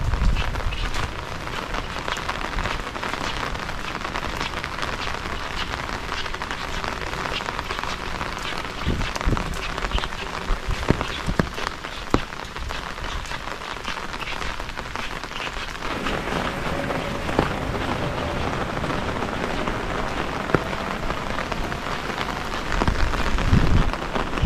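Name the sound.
heavy rain during storm in a Japanese village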